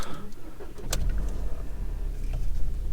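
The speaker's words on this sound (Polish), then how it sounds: "Uruchamiamy silnik." A car engine turns over and starts in a parked car that had been closed up and heated inside, followed by a steady low idle rumble throughout, close and fairly loud with no talking.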